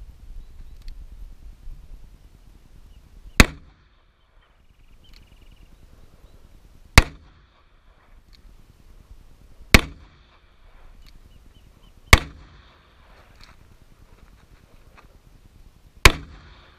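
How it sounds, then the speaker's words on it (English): Five sharp, loud gunshots from a Ruger Redhawk .44 Magnum revolver, fired one at a time with gaps of about three seconds, each a hard crack that fades quickly into a quiet outdoor background. "got 6 more rounds to pop off, and we'll be shooting it with our Ruger"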